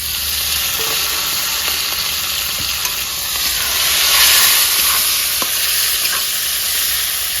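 Chopped tomatoes go into onions frying in a pan, giving a loud, even hiss of sizzling that swells slightly midway, with a few faint scrapes of stirring.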